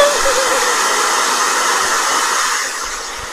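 A blow dryer runs steadily close by as a loud, continuous airy roar that eases off slightly near the end, with no voices.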